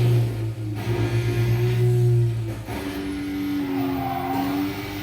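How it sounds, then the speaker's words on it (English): A supercharged stunt car in Burnout Paradise drones along with a sustained engine tone and a whining, gliding pitch that shifts midway, staying fairly loud throughout. "Oh, you can hear that supercharger."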